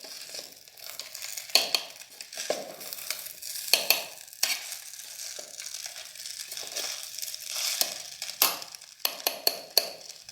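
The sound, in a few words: stirring Maggi noodles in an electric kettle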